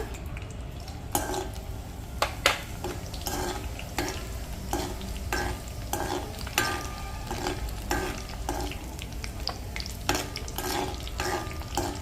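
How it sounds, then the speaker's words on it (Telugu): Mustard seeds and cumin sizzling in hot oil over a low flame: a constant close frying hiss dotted with irregular pops and crackles and occasional stirring scrapes, with no talk. "ఇదిగో ఆవాలు వేసుకుంటాము"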